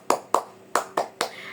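Classroom tepuk semangat clapping game: five bright, close hand claps in a short broken rhythm, two quick, a pause, then three more, heard alone without speech.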